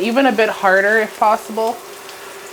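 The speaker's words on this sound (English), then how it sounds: "that sizzle that you're hearing is exactly what you want to get it brown" Beef browns in a pan on an induction burner with a steady, low sizzle running beneath a man's close, clear talking.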